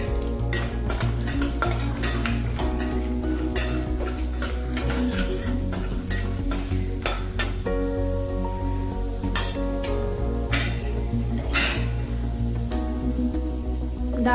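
Metal spoon scraping and clinking in a pan as urad dal and chana dal are stirred and roasted, with a light sizzle beneath the repeated clatter.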